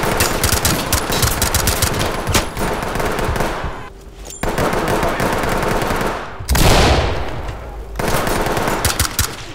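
Machine gun fire rattles in rapid, loud, close bursts in the video game Ready or Not, a sustained fusillade broken by a few short pauses and resuming each time.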